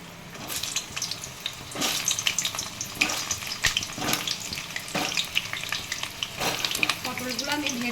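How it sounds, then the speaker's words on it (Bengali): Pointed gourd (potol) drops into hot oil in a wok, giving a loud crackling sizzle with sharp stirring clatters and bursts of spatter, steady through the whole stretch with no talking. "এবারে আমি পটলগুলো সব তেলের মধ্যে ছেড়ে দিচ্ছি"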